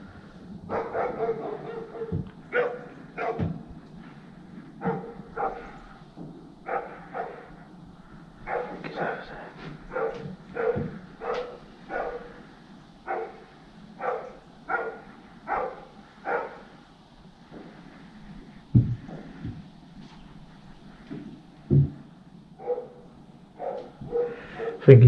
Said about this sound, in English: there's a dog somewhere